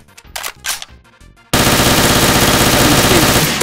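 A powerful gun in the game Gmod DarkRP fires a sustained rapid burst of loud, close gunshots that cut in suddenly after a brief stretch of quieter sounds.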